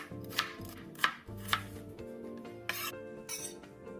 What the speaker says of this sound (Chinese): 趁这5分钟空档，将50克洋葱切成粗丝。